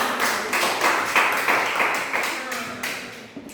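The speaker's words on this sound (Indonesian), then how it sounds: "Tepuk tangan buat semuanya" Students in an Indonesian classroom clap for everyone present, a brief ragged patter of many hands at moderate level that thins out toward the end, with faint voices mixed underneath.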